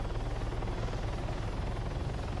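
A helicopter in the video game Arma 3 flies with a steady, dense rotor and engine drone, constant in level throughout with no talking.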